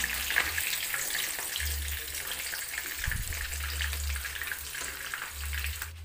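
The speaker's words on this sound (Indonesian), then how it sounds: "sisa minyak menggoreng tahu kita gunakan untuk menggoreng telur" Eggs frying in oil left over from frying tofu, a steady close sizzle and crackle of hot oil in the pan, with low rumbling bursts between, no voices.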